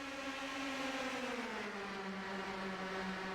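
In a sim racing game at Michigan, race cars run around the track, one passing on the outside, producing a steady close engine drone that slowly falls in pitch, with no voices.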